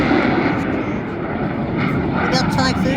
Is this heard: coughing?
no